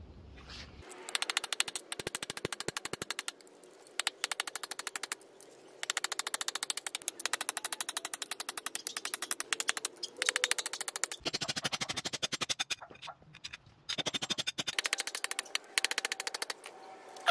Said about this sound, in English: So you just keep hitting it until it's completely moved down and came out nicely.